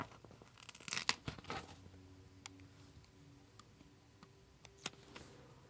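A payday sticker peeled from a Sweet Kawaii Designs sticker book for a B6 Stalogy planner gives a faint, brief tearing rip near the start, followed by soft scattered ticks and taps.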